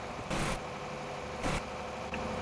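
Engine of a Neoplan Starliner bus in Euro Truck Simulator 2, idling steadily with two short throttle blips that briefly swell the rumble, then a faint click near the end.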